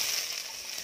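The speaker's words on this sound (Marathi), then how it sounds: "आल्याचं कच्चे पण दूर होईल इतपत हे भाजून घेऊया." Ginger roasting in a pan for a Malvani-style egg curry, a soft steady sizzle that is quiet and close, with no voices over it.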